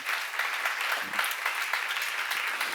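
Church congregation applauding during a sermon at a seminar, a steady wash of many hands clapping at moderate loudness for a few seconds with no voices over it.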